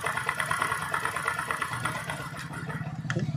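A Discover 100cc motorcycle engine idles with a steady low pulsing throb, close and fairly loud, and the beat slows and fades toward the end as it stalls after the fuel mixture screw is turned fully tight.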